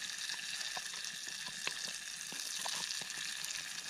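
Onion, garlic and chili frying at a bushcraft camp in the woods, a steady close sizzling hiss with scattered small pops and crackles throughout, no voices.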